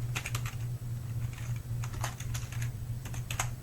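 Quick bursts of clicky keystrokes on a computer keyboard, close and fairly quiet, over a steady low hum, with short pauses between runs of typing.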